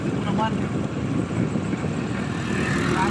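Car engine labouring as it climbs a steep forest road in Bohol while overheating, a steady low drone running throughout beneath people talking.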